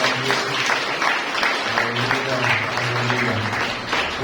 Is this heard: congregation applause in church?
yes